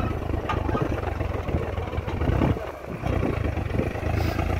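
Swaraj 855 and Yodha tractors run with a steady low diesel rumble during harrow testing outdoors, the engines droning loudly and continuously with a slight dip partway through.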